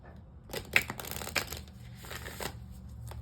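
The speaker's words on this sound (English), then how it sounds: "Give it another shuffle" A deck of cards riffles and snaps in a few quick bursts, a brief shuffle close by with soft rustling between.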